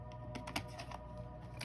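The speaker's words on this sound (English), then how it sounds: "I cut the deck" A deck of tarot cards being cut by hand, giving a run of soft, quiet clicks and shuffling taps that crackle faintly with no talking.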